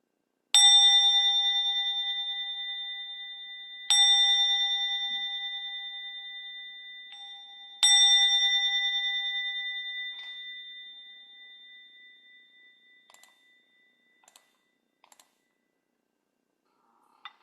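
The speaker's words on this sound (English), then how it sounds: "Go ahead and ring a bell and get us rolling here." Meditation bell struck three times at even intervals, each ring a clear resonant ding that decays slowly, followed by quiet with a few faint light clicks near the end.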